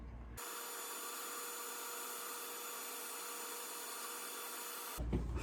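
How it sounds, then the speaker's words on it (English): A half-inch Forstner bit drills holes through wood for a carpenter bee trap, giving a steady, continuous grinding whir that runs unbroken for about five seconds before stopping abruptly. "So you see, we got all the holes drilled in them."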